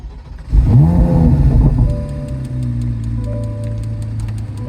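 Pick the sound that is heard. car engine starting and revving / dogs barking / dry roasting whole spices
car engine starting and revving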